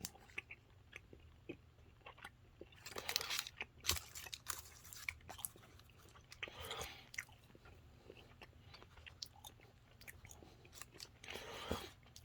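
Strawberry-flavoured chewy candy is chewed close up, with soft, sticky, repetitive mouth sounds continuing steadily, no talking.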